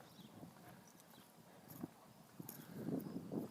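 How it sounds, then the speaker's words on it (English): Horses heard faintly outdoors on a stormy walk, with soft irregular clip-clop hoof thuds and low snorting rumbles rising toward the end, distant and quiet. "Horses."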